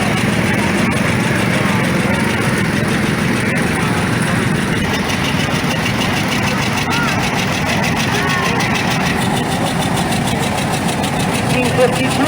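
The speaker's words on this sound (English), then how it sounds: "The R was John Deere's first diesel tractor." A deep, steady diesel engine of a 1952 John Deere Model R tractor runs continuously in an old engine show parade, a low rumbling drone with a mechanical knock, holding constant and loud throughout.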